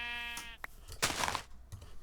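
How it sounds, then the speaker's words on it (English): A Minecraft sheep bleats faintly, a short wavering call followed by a couple of brief soft blips in otherwise quiet surroundings. "Where should I pen up these sheep?"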